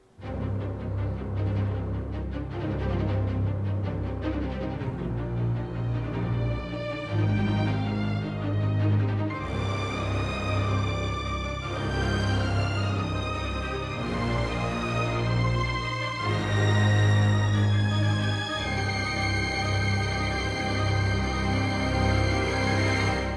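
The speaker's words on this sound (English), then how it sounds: "with the brass legato also playing the melody" A full orchestral passage with sustained strings, woodwinds and brass playing a smooth legato melody, steady and rich throughout with no voices.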